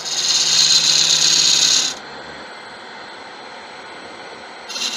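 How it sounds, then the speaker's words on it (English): Smaller gouge cutting wood on a lathe while turning a stand for a 5 1/2 inch wide candle, a loud bright scraping hiss for about two seconds that drops to a low motor hum, then the cut briefly resumes at the end. "We'll get in there with a smaller gouge."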